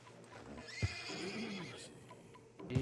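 A horse whinnies once in Red Dead Redemption 2 over hoof clip-clops and a low rumble, with a sharp snort-like burst near the start and another near the end.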